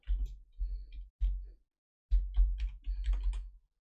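Typing on a computer keyboard, short bursts of close, crisp key clicks separated by brief pauses, quiet and without speech.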